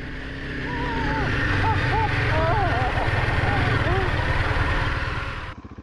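A motorcycle rides through soft gravel on Rainbow Road, its engine a steady, loud, close rumble with crunching underneath, fading slightly at the end; voices can be heard over it.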